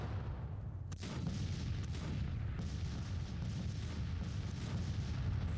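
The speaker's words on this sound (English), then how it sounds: "And I guess we're just going to blast away with artillery." Distant artillery booms rumble over a dense battlefield din in Grand Tactician: The Civil War, with a few sharper reports standing out against continuous low roaring fire.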